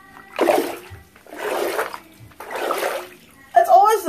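Bath water with a watermelon bubble bomb splashes and swishes in three close bursts, followed by a voice speaking.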